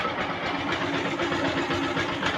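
A repaired motorcycle engine idles steadily up close, a continuous even rumble with a fast regular pulse and no talking.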